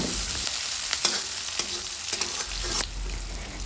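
A bay leaf, cardamom and cinnamon fry in hot oil for egg khichuri, making a bright, steady crackling sizzle with a few sharp clicks of a spoon stirring against the pan.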